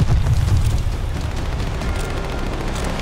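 Gunfire and explosions in Call of Duty: Vanguard on Xbox Series X, heard as a loud, continuous rumbling barrage of booms and dense shooting with heavy low-end weight, no voices.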